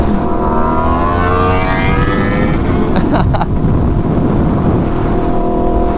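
An Aprilia RSV4 Factory superbike engine revs loud and close, with its pitch climbing steadily and a brief sharp burst partway through. The engine roars alone with no talk over it.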